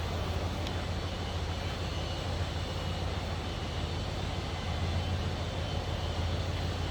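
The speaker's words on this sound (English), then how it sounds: "Sounds like you'd expect LT1 in this Fleetwood to sound" A 1994 Cadillac Fleetwood Brougham's LT1 V8 runs at a smooth, steady idle, heard as a continuous low rumble with a broad airy hiss and no changes in revs.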